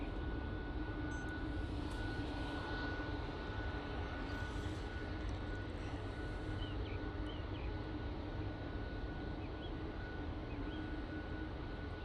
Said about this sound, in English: Ryanair 737 MAX 8, departed off to Krakow